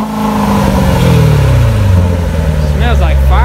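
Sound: supercharged car engine revving, supercharger whine

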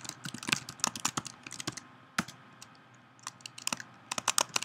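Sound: typing on a computer keyboard

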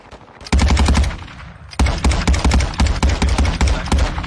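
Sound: gunfire from a video game

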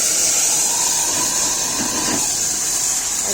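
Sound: water poured into fried vegetables in hot pan, sizzling

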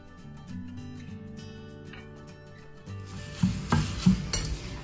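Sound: frying turmeric in oil for poha mixture

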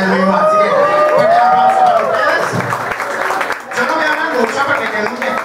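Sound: audience applause

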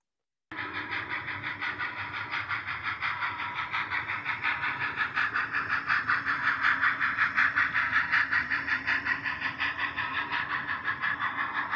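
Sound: model train running on layout

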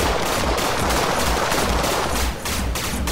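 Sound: gunfire in a video game, Executive Assault

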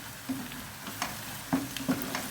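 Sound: onions and carrots sautéing in a pan

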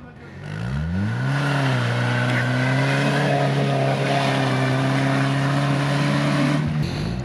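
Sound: off-road car driving through a deep rut, race

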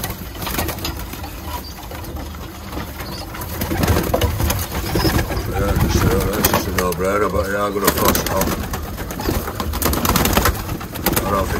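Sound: roller pigeons cooing

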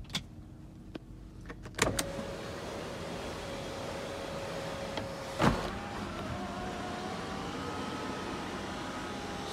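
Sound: power windows of a 2011 Nissan Murano operating

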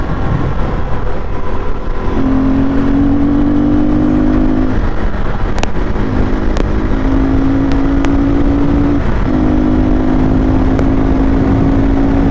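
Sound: KTM RC390 motorcycle riding

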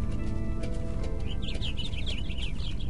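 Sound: birds chirping in the video game Minecraft

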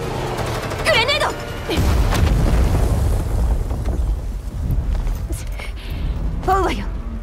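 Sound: grenade explosion in a Girls' Frontline 2 video game cutscene

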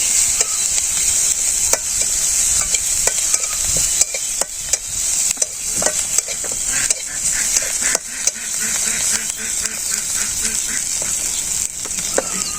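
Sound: onions and chilies sautéing for tilapia curry

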